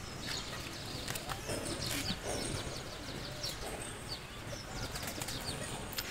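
Big-sized pigeons flapping their wings at a pigeon seller's, faint repeated fluttering bursts over a steady hissy background, no talking.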